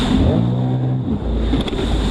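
A jet ski engine runs out on open water, a steady low roaring hum with wind and splashing wash, near and fairly loud, no voices.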